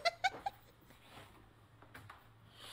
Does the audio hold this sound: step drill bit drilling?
no